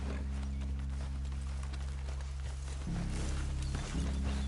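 Horses' hooves clip-clop at a steady walking pace, fairly close, over a constant low rumble of background hum, with no voices present.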